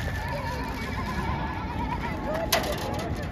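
A lamb bleats at an urban farm in Hounslow, a short wavering call rising over steady outdoor background noise, with children and adults chattering nearby.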